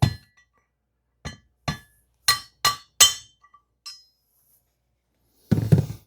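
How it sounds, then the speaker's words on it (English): Sharp metallic clinks from chipping metal off a KTM 390 Duke cylinder head, about six separate taps spaced irregularly, close and fairly loud, ending with a brief rustling scrape. "You're literally chipping metal away from your head."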